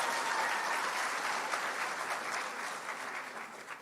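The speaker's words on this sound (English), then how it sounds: "Please give yourselves a round of applause." A middle school eighth-grade graduation audience applauding, a dense, even wash of clapping from a large crowd that holds steady and then slowly tapers, heard at a distance.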